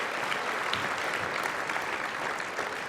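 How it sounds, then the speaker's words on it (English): A convocation crowd at Humber College gives steady, even applause for graduates of the Computer and Network Support Technician program, a continuous wash of clapping from a large hall. "Give a round of applause for the graduates from the Computer and Network Support Technician Program."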